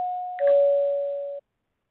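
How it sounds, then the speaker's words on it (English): A debate timer bell rings two clear electronic tones, a steady ding followed by a slightly lower overlapping tone, both holding for over a second before stopping cleanly in quiet. "you got a little delay with the bells here"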